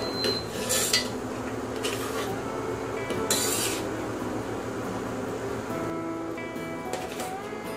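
A spoon scrapes and stirs quail curry with coconut milk inside a cooker, making soft, intermittent metallic rasps and clinks, fairly quiet and close.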